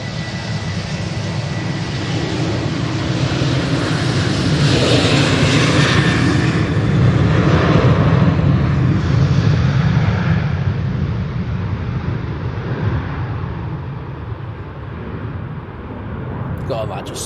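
A Ryanair airliner lands at Manchester Airport on a windy day, a loud, sustained engine roar with rushing wind noise that swells, then slowly fades as the plane rolls away.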